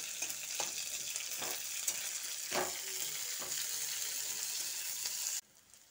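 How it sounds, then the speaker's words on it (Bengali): Chopped onion sizzles and fries in a pan while being cooked for a pointed gourd bhorta, with a few stirring scrapes over the steady crackle before it cuts off near the end. "পেঁয়াজটা দিয়ে আবারও একটু ভালো করে ভেজে নিতে হবে।"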